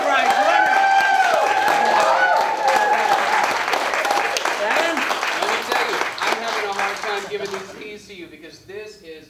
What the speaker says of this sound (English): let's get some cheering going on for this grand prize winner